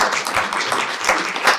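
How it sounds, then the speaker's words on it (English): A panel-discussion audience at a speaker series on Utah's WWII history claps in a brief, dense burst of applause that stays fairly steady and close for under two seconds. "I was wondering if we can all give our panelists a round of applause."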